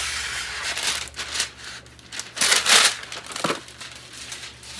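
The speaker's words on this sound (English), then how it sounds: "I'm going to use my parchment paper." Parchment paper crinkles in bursts of crisp, loud rustling as it is pulled out in a home kitchen to cover a cookie sheet for pecan pie, with a low steady hum underneath.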